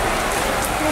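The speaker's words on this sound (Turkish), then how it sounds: "Ama sağanak yağış var bugün." A heavy downpour in Sinop hisses steadily as dense rain strikes the surfaces nearby, forming one continuous, loud wash.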